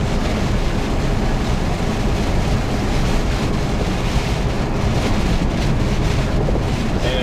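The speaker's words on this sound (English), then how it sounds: "it's really windy up here too" Strong wind roars and buffets the microphone near a mountain summit in April, in a constant, loud rush with no pauses.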